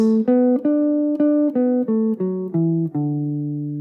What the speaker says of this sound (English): So a major pentatonic would sound like this.